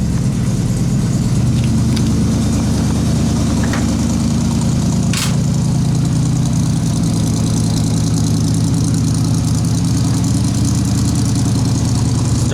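A carbureted 1957 Chevy engine idles steadily just after a cold start, a loud, continuous low rumble with a fast, even lope throughout and no voices.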